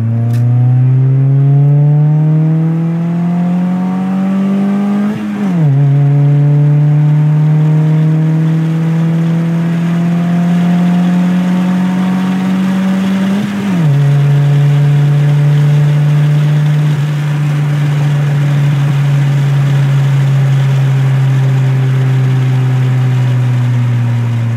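A Honda Civic EG3 fitted with a Skunk2 cat-back exhaust revs from inside the car, a loud steady engine drone that climbs in pitch twice, drops sharply each time and then holds at a raised idle.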